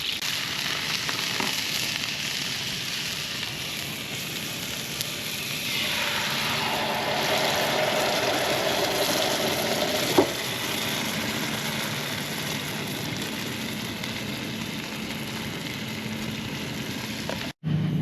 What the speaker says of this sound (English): we're going to mix in the sweet chili sauce and let it simmer for about 10 minutes